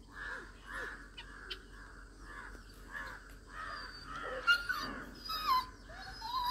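A crow caws repeatedly at a farmhouse in Karnataka, a regular series of moderately distant calls over quiet outdoor ambience, with a few brighter chirps and faint background noises toward the end.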